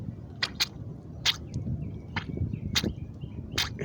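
An outdoor lawn sprinkler runs with irregular sharp ticks and clicks, with a few faint chirpy squeaks between them, over steady background rumble, at moderate distance.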